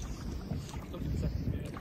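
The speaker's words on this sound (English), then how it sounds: "I've instructed my driver to take me closer, but he's paddling a bit slow." Small boat paddled slowly on coastal water in New Zealand's Coromandel, a low steady wash of water and wind noise with soft paddle strokes, continuous and close.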